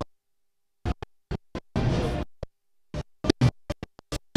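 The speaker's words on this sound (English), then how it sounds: "Oh look, that's the sound of a sound check there." A band sound check at a busy trade show hall, with a drum kit's toms and kick hit in short separate strikes and a brief burst of cymbal wash, sounding moderately loud with irregular pauses between hits.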